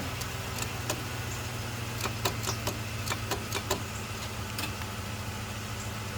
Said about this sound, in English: Starter's not wanting to do anything. It's like it's trying, but the starter maybe froze up.